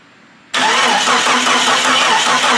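A Jeep Cherokee engine fires on starting fluid after near silence, bursting abruptly into a loud, steady running rumble that holds for the rest of the moment.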